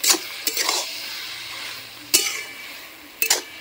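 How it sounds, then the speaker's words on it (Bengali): Cabbage and potato are stir-fried in a wok, with a soft background sizzle broken by three or four short bursts of scraping and stirring, close by and with no voices. "দেখুন এবার বাঁধাকপিটা ভালো করে আমি কষিয়ে নেব"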